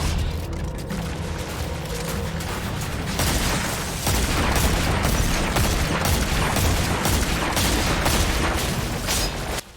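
Sustained rapid gunfire from the Dead Man's Tale exotic scout rifle in Destiny 2, a dense stream of loud, close shots with mechanical clatter running the whole way and growing heavier partway through.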